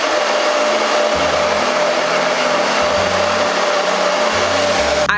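A hair dryer runs steadily at close range while drying a synthetic wig, a loud constant whir with a shrill tone and slight shifts in its low hum as it is moved, no voices.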